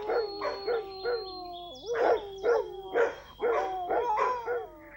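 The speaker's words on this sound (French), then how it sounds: "Des chiens à 12 heures." Several dogs bark in short, irregular bursts with a few whining, yelping tones mixed in, moderately near and loud against a quiet background with no talk.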